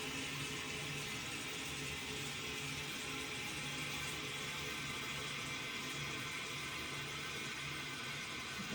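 A toilet tank refills after a flush while a new flapper valve is fitted, giving a steady, even rush of running water with a low hum that holds at the same level throughout.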